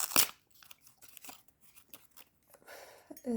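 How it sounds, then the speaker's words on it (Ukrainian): Paper surprise packets being torn open by hand, a sharp loud rip at the start followed by softer crinkling and rustling, with a brief voice near the end. "Тому ми акуратно їх розриваємо."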